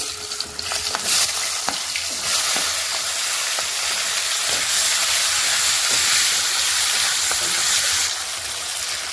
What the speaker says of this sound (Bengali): এই দেখো পেঁয়াজটা একদম ব্রাউন করে ভাজা নিয়েছে